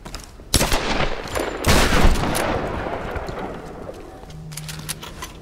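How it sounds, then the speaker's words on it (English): Shotgun blasts in the 2013 Tomb Raider game, two loud booming shots with a long fading rumble and scattered crackles afterward. "The shotgun is so loud."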